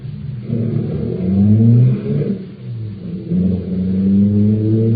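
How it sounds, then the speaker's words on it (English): A car engine rumbles and revs up and down in two surges, close and fairly loud, with no voices. "I'll start the car."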